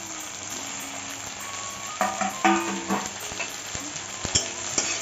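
Chopped tomato goes into a pan of reddened fried onion for a Bengali rui fish head chochchori, giving a steady close sizzle with scraping stirring sounds and clinks of a utensil against the pan.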